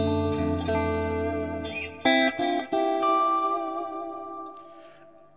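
Sustained electric guitar chords through a One Control pedal ring out with lush echoing delay and reverb, new strums cutting in a few times before the sound slowly decays.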